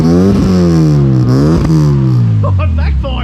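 A Hyundai Getz track car fitted with race extractors revs hard, its loud engine note rising and falling through several sharp throttle blips, with voices talking over the end.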